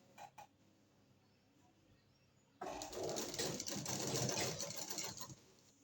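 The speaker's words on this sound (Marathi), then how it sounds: "अशी शिलाई मारून घ्यायची" A sewing machine stitching a ruffle sleeve, a couple of brief taps and then a sustained close, rapid mechanical whir of stitching for about three seconds before stopping.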